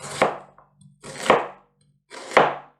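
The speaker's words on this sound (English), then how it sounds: "Basically cut the onions in half, then again half," A knife chops onions on a cutting board in three separate crisp strokes, each a sharp near thud with a brief scrape, spaced about a second apart with quiet between.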